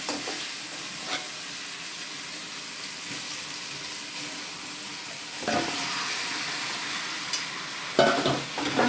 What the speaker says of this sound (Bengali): মটনটাও ভালো করে কষানো হয়ে যাবে